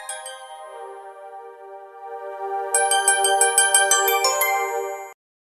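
A melodic electronic ringtone plays close by, starting with sustained tones and then shifting into a rapid chiming pattern before stopping abruptly.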